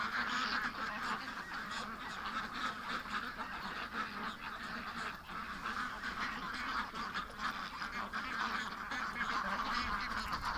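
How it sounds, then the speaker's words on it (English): A flock of ducks at a swamp calls in agitation, a dense continuous chorus of honking quacks, loud and near, with no pauses across the stretch. "the ducks are freaking out because he's watching the swamp while standing amongst them"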